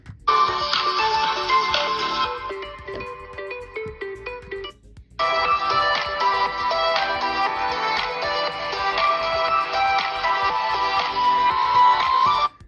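A Google Pixel 7 phone speaker playing music at maximum volume, bright and tinny, loud and continuous with a brief drop near the middle before resuming.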